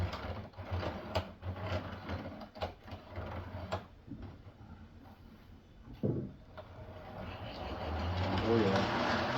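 An old DC Train Master model train engine runs loudly on the layout, likely in need of grease, giving a rattling mechanical whir with clicks and clunks, fading and returning as it moves along the track.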